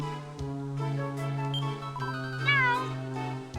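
A cat in the video game Dragon Quest IX lets out a short rising meow over steady sustained game music, clear and near.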